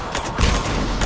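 A mounted enemy gun fires in Mass Effect 3, a dense, continuous rattle of heavy shots with booming low thumps, close and loud for a brief burst.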